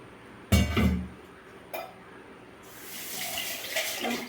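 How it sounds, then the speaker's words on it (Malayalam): Water being poured into a rice pressure cooker, a sudden splash and clink of vessel, a brief second splash, then a steady running stream, close and moderate. "ഇത് 1 കപ്പ് വെള്ളം ഒഴിച്ചു"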